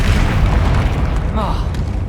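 A Confringo spell explosion in the game Hogwarts Legacy, a loud, deep, rumbling blast filling the clip with a voice heard over it.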